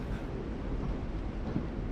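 A steady, low rumble of train ambience plays in The Walking Dead video game, a faint continuous rolling hum with soft rattling and no distinct events.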